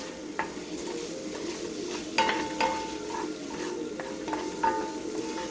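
Tofu scramble sizzles softly in a pan while a utensil stirs and scrapes it, with a few light clinks against the pan rim. The cooking sound is steady and close, and no one speaks.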